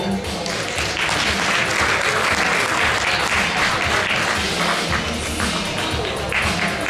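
Audience applause at a natural bodybuilding competition, dense, steady clapping from a large crowd that keeps going evenly throughout, with a faint voice beneath.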